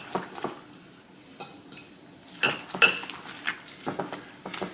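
A utensil mixes egg foo young filling in a bowl, with repeated clinks and scrapes against the bowl and soft wet stirring sounds, close and moderately loud.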